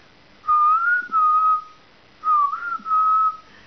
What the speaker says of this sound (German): pfeif doch mal